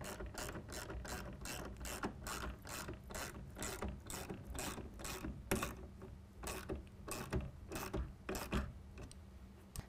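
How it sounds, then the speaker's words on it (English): Repeated close ratcheting clicks from a 7/16 wrench tightening down the clamp of a Pace Edwards JackRabbit tonneau cover on a 2014-2017 Chevy Silverado, in steady quick bursts of strokes with no talking. "we're going to go ahead and tighten down the clamp with a 7/16 as well"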